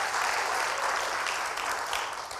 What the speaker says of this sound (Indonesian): tepuk tangan dulu yang luar biasa buat Tuhan